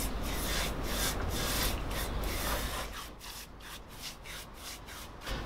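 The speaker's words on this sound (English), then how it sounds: "I'm going to coat the wood and the metal with linseed oil." Linseed oil is rubbed by hand onto the wood and metal of a whiskey barrel, a soft close rhythmic swishing of repeated wiping strokes, steady throughout.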